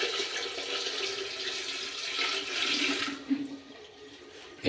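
Water is poured by hand into a toilet bowl to force a flush, a continuous splashing gush that builds for about three seconds and then drops to a softer trickle and gurgle.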